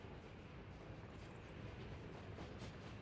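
A train runs in the city-building game Workers & Resources: Soviet Republic, heard as a faint, steady, even rumble with no distinct clacks, far off and alone without talk.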